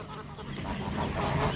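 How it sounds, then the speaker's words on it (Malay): Several ducks quack and honk in a noisy, overlapping chorus close by, continuous throughout. "Ya, itik lepas mandi."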